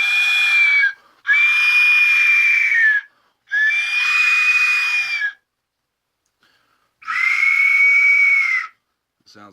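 A death whistle blown through cupped hands gives four loud, shrill, screaming blasts of uneven length. Pitch bends slightly at the ends of the blasts, with a longer silent pause before the last one.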